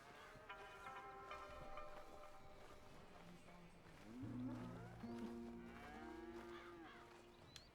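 Cattle on a ranch in Red Dead Redemption 2 low with drawn-out moos, several overlapping calls swelling in the middle, heard faintly alongside people talking.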